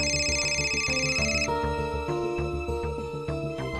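A melodic phone ringtone plays continuously, a repeating tune of clear electronic notes, fairly loud and up close.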